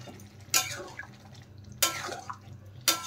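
Fried paneer pieces tip into a pan of masala along with their water, making three short, wet splashes spaced about a second apart. Each splash trails off into faint sizzling and bubbling.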